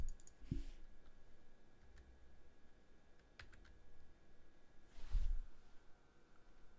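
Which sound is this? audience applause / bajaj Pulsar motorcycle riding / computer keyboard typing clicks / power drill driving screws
computer keyboard typing clicks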